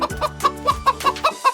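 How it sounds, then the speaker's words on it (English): A hen clucks in a quick series of close, clear clucks, about eight short notes in a bit over a second with no other sound. "Hen."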